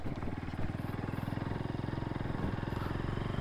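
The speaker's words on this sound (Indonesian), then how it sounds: "Terus knalpotnya saya ganti pakai SAC produk full system. Suaranya sedikit ngebas, berisik sedikit tapi nggak banyak." A Kawasaki W175 motorcycle fitted with an SAC full-system exhaust runs close by with a steady, slightly bassy, throbbing engine drone that holds throughout.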